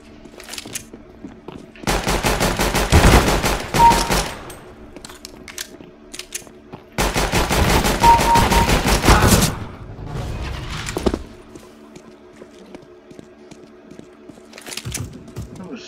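Two long bursts of rapid automatic gunfire in Counter-Strike: Global Offensive, separated by a short pause. Quieter game sounds and a faint voice come between and after the bursts.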